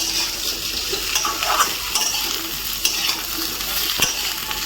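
Moringa drumsticks, potato and tomato fry in a pan with a constant sizzle, broken by the scrape and clink of a spoon stirring them every second or so, close and without talk.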